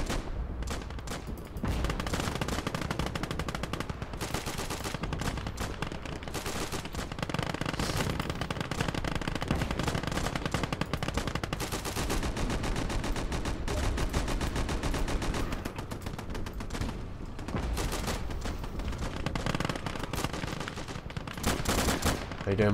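Sustained machine gun fire in the Gates of Hell: Ostfront video game, loud continuous bursts of rapid shots running almost the whole time with other gunfire layered in.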